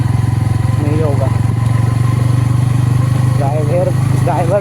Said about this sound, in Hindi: ड्राइवर भी नया ड्राइवर है और बाइक भी नया बाइक है, तो धीरे से चलना पड़ेगा